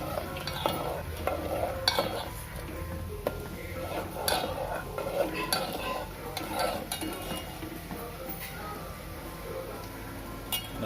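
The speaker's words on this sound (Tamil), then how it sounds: "இதே டயத்தில் நம்ம அந்த சீனிப்பாவை நம்ம கிண்டிக்கிட்டு இருக்கோம்" Sugar syrup for gulab jamun stirred on a low flame: continuous close scraping and swishing in the pot with occasional metal clinks of the utensil, steady throughout.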